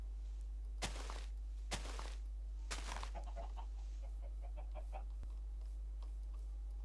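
Minecraft chickens clucking in a survival world: three sharp bursts about a second apart, then a run of quick soft clucks and small thunks, fairly quiet with no talk.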